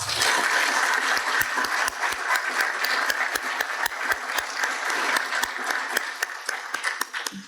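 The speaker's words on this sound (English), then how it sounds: "Please give them a round of applause." Graduation audience at a shipyard ceremony giving a round of applause, a broad steady wash of clapping with distinct individual hand claps popping out near the front, tapering slightly toward the end.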